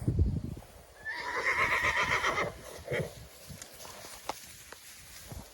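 A Volodymyr draft horse whinnies loudly for about a second and a half, a long shaky neigh, followed by a short snort and scattered rustling and hoof sounds nearby.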